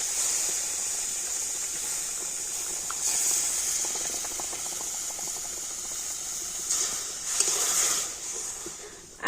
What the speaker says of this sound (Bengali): আর এবার আমি সুজির মধ্যে দিয়ে দেব দুধ